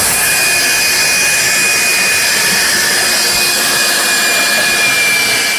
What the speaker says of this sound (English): The vacuum will suck it all up.